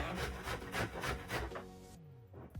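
Vegetables grated by hand for coleslaw, a quiet series of rhythmic rasping strokes, about six scrapes, close and faint, trailing off.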